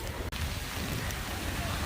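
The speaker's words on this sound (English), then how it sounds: "now it is raining quite a bit more" Rain falls steadily on the Jeju Olle Trail, route 7-1, as a dense, even hiss with a brief dropout partway through.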